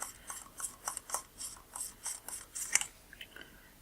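A rubber cone friction wrench grips and turns a lens element retaining ring during fungus-cleaning repair, making soft, faint rhythmic scraping and rasping strokes about three per second, close up and quiet, no talking.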